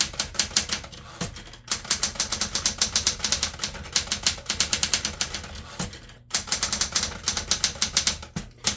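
Rapid clacking keystrokes on a 1960s Smith Corona Galaxie Twelve manual typewriter with a fairly soft platen, close and continuous, broken by two short pauses, with no voices.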